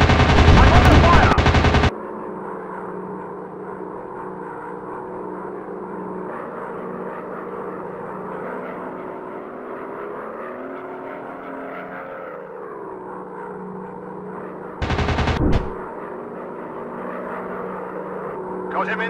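In an airplane video game, a short burst of machine gun fire rattles out, then a steady aircraft engine drone runs for several seconds before a second brief volley.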